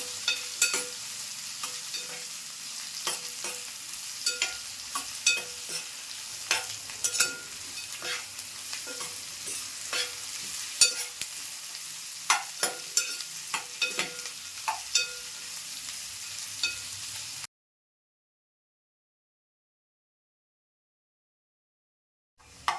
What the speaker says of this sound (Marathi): कांदा पण कसा व्यवस्थित असा भाजून घ्यायचा त्याच्यामध्ये एकदम मऊ झाला पाहिजे कांदा